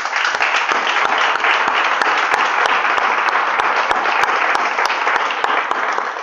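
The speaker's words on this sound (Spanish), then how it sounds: "Un aplauso, por favor." Audience applause at a Spanish book presentation, a dense, steady wash of many hands clapping loudly and continuously with sharp individual claps poking through, no voices on top.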